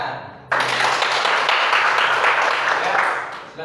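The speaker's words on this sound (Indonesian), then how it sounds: "Tepuk tangan." Sudden burst of dense clapping from a school assembly audience at an SMPK, loud and sustained for about three seconds before tapering off, with faint voices underneath.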